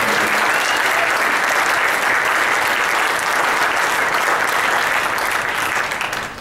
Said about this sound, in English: If we could give him a round of applause for all of his fun work.